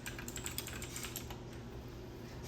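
Rapid typing on a MageGee 60% mechanical keyboard with red linear switches, a quiet, close run of soft, even keystrokes with no tactile clicks, heard alone.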